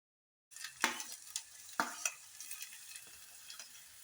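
Sliced onion and a fairly large carrot sauté in a pan for a wheat-flour and egg breakfast, with a soft sizzle under a series of stirring scrapes and taps that start suddenly and come at an uneven pace.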